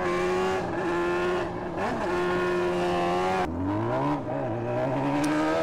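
Motorcycle engine in GTA San Andreas revving hard and climbing through the gears, a loud, close, steady whine with a pitch jump after a shift partway through, no talk over it.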